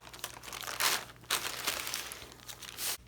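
Wonder Under fusible web being cut and handled with regular craft scissors makes soft papery crinkles and snips in several short bursts, close and quiet, with no talk.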